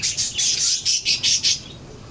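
Pet budgerigars (parakeets) kept in a cage with a breeding box chirp in a quick, bright series of about eight close tweets, with a short quiet gap at the end.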